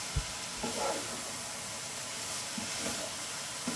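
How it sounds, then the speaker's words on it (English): Spices fry and get stirred in a pot for a Sri Lankan beetroot curry, giving a soft steady sizzle with a few faint scrapes and clinks of stirring, fairly quiet and with no talking. "Fry these about 10 to 15 seconds. Just give that a good stir and mix with the spices together."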